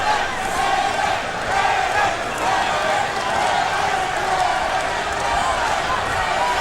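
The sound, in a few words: boxing crowd chanting Lennox's name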